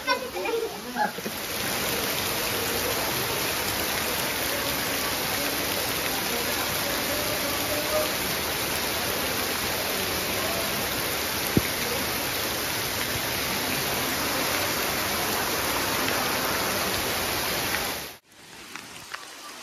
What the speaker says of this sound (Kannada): ನೋಡ್ಬೋದು ಎಷ್ಟು ಮಳೆ ಬಂದಿದೆ ಅಂತ